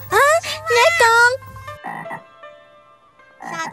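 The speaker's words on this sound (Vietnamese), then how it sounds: "nhái con bé bỏng ơi, nhái con ơi" Frog croaking in an animated cartoon, a loud close burst of rapid rising croaks followed by two quieter, shorter croaking bursts separated by near silence.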